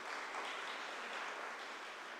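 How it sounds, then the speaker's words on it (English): Applause at a university event at Savitribai Phule Pune University, a short burst of steady clapping from an audience, fairly faint and diffuse. "Give a big applause to him."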